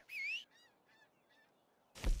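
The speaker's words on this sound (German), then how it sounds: "Das sind aber doch Gänse da, oder?" Geese in Red Dead Redemption 2 give one loud, nasal honk, then a string of fainter, more distant honks, before a sudden loud thump cuts in at the end.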